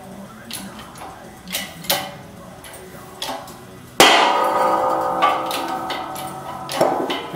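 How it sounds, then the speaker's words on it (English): Bearing pressed out of a Nissan S13 R200 limited-slip differential with a press, using a nut as a driver: scattered metallic ticks and knocks, then a sudden loud crack and grinding strain as it gives, close and without talk. "Next I'm going to try and press out the bearing in the bottom of here."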